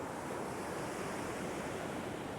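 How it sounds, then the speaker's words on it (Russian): Steady ocean surf washing onto a Florida beach near St. Augustine, a continuous broadband rush of breaking waves with a faint windy edge, moderately distant and unbroken by any voices. "Но там какая-то волна набегает, я смотрю."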